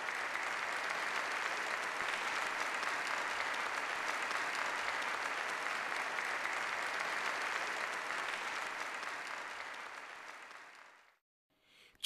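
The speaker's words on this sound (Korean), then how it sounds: "전체 참가자들은 열광적인 박수로 환영했습니다" A banquet hall full of participants bursts into sustained, enthusiastic applause as North Korean leader Kim Jong Un, Ri Sol Ju and South Korean President Moon Jae-in arrive; dense, steady clapping fills the room for about eleven seconds, then cuts off.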